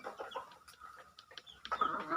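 A rooster at a rural backyard flock in Chavara, Kollam, gives clucking, crowing-like calls in short bursts, the loudest rising near the end, with other chicken sounds scattered around.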